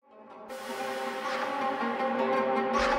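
A producer tag played over a beat, with layered sustained tones that swell in after a brief pause and hold steady and fairly loud to the end.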